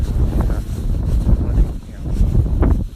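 Strong wind buffets the microphone with a continuous low roar and gusty rumble throughout.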